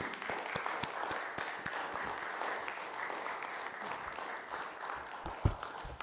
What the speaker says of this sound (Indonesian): Sekali lagi kita berikan tepuk tangan yang meriah